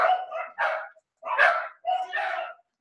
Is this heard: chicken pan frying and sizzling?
no